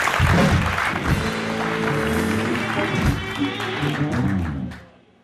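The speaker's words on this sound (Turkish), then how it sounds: "Böyle alkış keyifliydi benim için." A television studio audience applauds on a late-night talk show, the clapping full and steady for several seconds before fading out, with voices talking over it.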